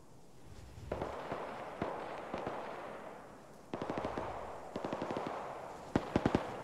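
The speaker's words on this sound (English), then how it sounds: "That's gunfire behind us." Gunfire in the ArmA 3 video game, with several bursts of rapid shots in quick succession, some clustered and sharp, sounding moderately distant in the game world without talk over them.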